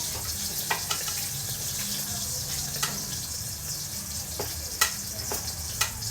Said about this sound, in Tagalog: nagpiprito ako ng isang tulig